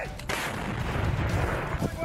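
A Russian 2S7 Malka self-propelled heavy gun fires once. A sharp, booming blast lands early and trails off into a long, rolling rumble heard from a distance.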